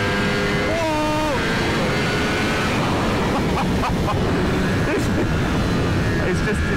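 A Ducati V4S motorcycle accelerates hard through quick short-shifted gears, engine pitch climbing and stepping down with each shift over steady loud wind roar from the rider's perspective.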